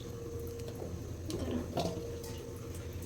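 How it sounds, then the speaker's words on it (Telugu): Water running and splashing while grapes are washed by hand in a bowl, a steady faucet-like trickle with brief sloshes and drips in the middle. "మేము వాటర్ తోటి కడిగిస్తున్నాం"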